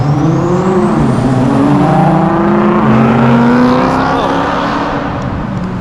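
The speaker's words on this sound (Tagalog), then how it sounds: "Dito pala, ayan, napadaan yung mga kotse." Several cars pass along a Singapore street, their engines rising and falling as each one sweeps by close and loud over a steady traffic rumble.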